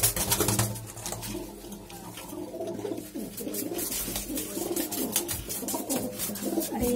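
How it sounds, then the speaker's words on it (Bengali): Malbai pigeons coo in low, throaty, rolling bursts, several birds close together, over a faint hiss of running water. "দেখুন এই একটা মালবাই পায়রা"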